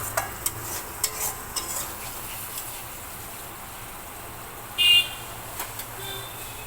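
Fried potatoes are stirred in a pan of spiced oil for a pabda fish curry, with a soft low sizzle, light spatula scrapes and clicks, and a brief electronic beep in the background.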